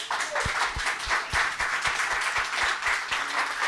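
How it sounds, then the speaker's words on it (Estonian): An audience at a church panel discussion gives a round of applause, steady close clapping with regular sharper claps standing out, and almost no voices. "Aga teeme ühe aplausi veel."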